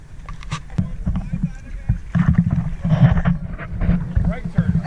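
A canoe is paddled on the Danube, with irregular splashes and knocks plus wind noise across the microphone, while people talk intermittently over it.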